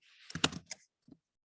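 Fingers tap out a short burst of keystrokes on a computer keyboard, a quick cluster of crisp clicks followed by a pause and one or two final taps, close and clear with no talking.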